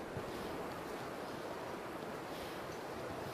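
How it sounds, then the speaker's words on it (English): Wind blowing in the snowbound survival video game The Long Dark, a steady, soft broadband rush with no gusts or breaks and no voices. "Wind though, a real bother."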